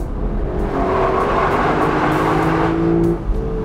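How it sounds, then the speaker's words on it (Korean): Lexus LC500 coupe exhaust on a public road, a loud continuous engine note with deep drum-like booms on each downshift, close and steady for nearly the whole stretch before easing off near the end. "기어를 내릴 때마다 정말 뒷범퍼에서 누가 그냥 드럼통을 엄청 치는 것 같은 그런"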